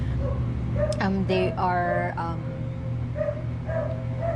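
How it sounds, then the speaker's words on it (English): Neighbours' dogs bark and yelp in the background, a short burst of excited, high-pitched barks with a whimper, mid-distance, underneath a person talking. "Our neighbors' dogs are getting excited once again."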